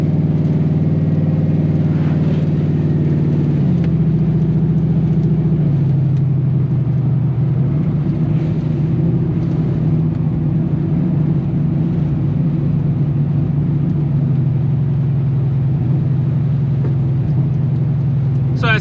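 A turbocharged Ford Mustang fitted with a big Circle D torque converter drives through city streets, its engine droning loudly and steadily inside the cabin, with a shift in pitch around the fifth second and a person talking over it.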